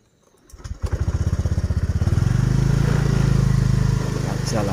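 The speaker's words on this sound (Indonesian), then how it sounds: "Kita puterin motor dulu" A motorcycle engine starts with rapid sputtering pulses and then revs up into a steady, loud, close rumble, as if pulling away onto a rural road.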